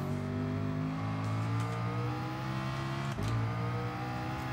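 A race car engine at full throttle in Gran Turismo Sport holds a loud, sustained high-pitched whine with dense harmonic tone, dipping briefly as if for a gear change before roaring on, with no talking.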